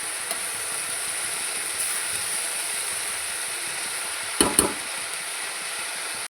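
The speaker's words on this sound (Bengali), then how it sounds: "এবার এটাকে ভালো করে নাড়াচাড়া করে নেব" Water spinach fries in a pan with a steady, even sizzle and hiss throughout, broken by a brief scraping clatter of stirring near the end.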